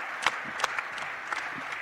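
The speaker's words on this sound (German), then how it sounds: "Sie können gerne klatschen." Conference audience applause at a political European congress, brief scattered claps with a few sharper hand strikes over a soft background, thin and fairly distant rather than a full ovation.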